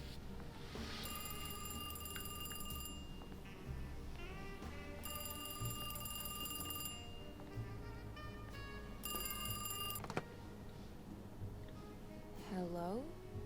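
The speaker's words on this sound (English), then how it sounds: "Once you unlock the wardrobe, the phone will start ringing." An old phone rings in the Alone in the Dark video game, a bright electronic trill repeating in three evenly spaced bursts over ambient game sound, with a voice speaking throughout.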